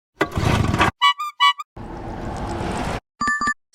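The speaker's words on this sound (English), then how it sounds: "Sound is truck pass" A truck passing by, heard as two stretches of steady broadband rumbling noise, separated and followed by short, bright electronic chime tones.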